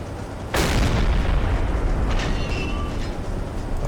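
A submarine deck gun in the naval game Silent Hunter 3 fires one loud, sharp blast that rolls into a long low rumble, with faint mechanical whines afterward and no talking.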